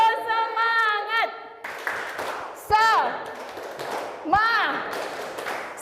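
A group does a rhythmic tepuk semangat clapping chant at a leadership session, with sharp bursts of clapping that rise and fall in a patterned rhythm among voices.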